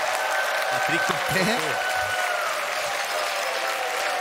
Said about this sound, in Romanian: haideți să-l primim cu cele mai puternice aplauze pe Patrik